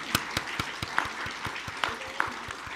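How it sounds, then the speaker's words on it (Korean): Sparse, uneven applause from a small audience at a church seminar for appointing deacons and officers, with scattered individual claps standing out rather than a full ovation. "이래 하면 우리 교육자들 박수 다 쳐줘야 되는데"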